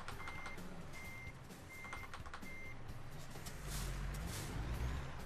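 A truck in American Truck Simulator sounds its reverse alarm, with four evenly spaced beeps over a low engine rumble that then swells as the rig moves.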